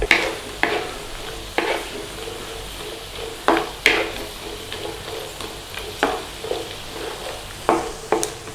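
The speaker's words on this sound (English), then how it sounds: "Now nice and gently we want to fry these, a little bit of colour on all the way around." Cashew nuts fry gently in a pan under a steady soft sizzle, with a utensil scraping and stirring them in irregular knocks every second or so, close and without talk.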